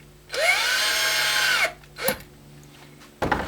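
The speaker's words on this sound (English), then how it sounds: "then putting it into the drill" A power drill spins to twist wire into a homemade fishing lure eyelet: one sustained whining run with rising then falling pitch, followed by a short blip and another brief start, close and loud.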